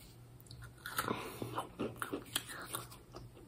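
Crunchy pistachio cookies being bitten and chewed up close, a quick series of crisp crunches and chewing sounds, fairly quiet, with no talk.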